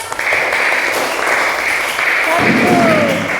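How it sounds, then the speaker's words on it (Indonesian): A grade 2 class of children claps together during a mathematics lesson on simple fractions, a loud, even burst of many small hands close by, with a voice rising briefly near the end. "Tepuk tangan"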